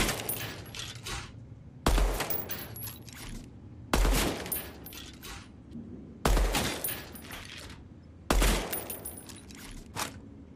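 Gunfire from the Deadrop practice range, a first-person shooter game: five sharp, loud volleys spaced about two seconds apart, each a burst of rapid shots with a ringing tail, with no talking.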